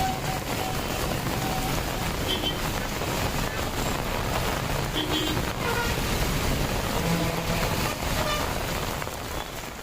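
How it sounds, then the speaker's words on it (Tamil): Heavy rain lashes down with gusty wind in Maduravoyal, Chennai: a dense, unbroken roar of rainfall and buffeting wind noise at steady high volume throughout. "மதுரவாயலில் சூறைக்காற்றுடன் கனமழை குட்டி தீர்க்கிறது"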